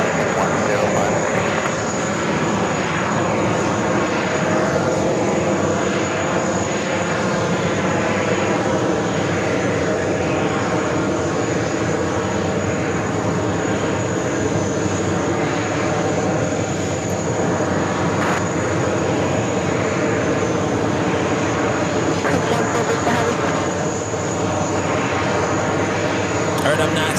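Airbus A340 and A321 airliners taxi at JFK airport, a loud, constant engine drone with a high whine running throughout, steady and close without pause.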